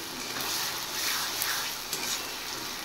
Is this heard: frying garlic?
yes